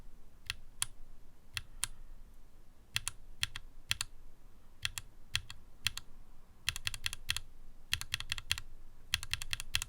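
Steady typing on a keyboard with Gateron Cream Soda switches, muted, deep, thocky keystrokes, clustered in quick bursts and short pauses, close and clear with no talking.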